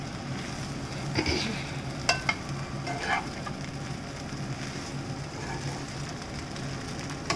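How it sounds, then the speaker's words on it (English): Brown bread upma, spiced with chilli powder, gets a light stir with a spoon in a pan, a soft steady frying hiss with a few brief clinks and scrapes, fairly quiet and with no talking. "Just give it one quick stir. Use your spoon very lightly, so you're not breaking up the bread too much."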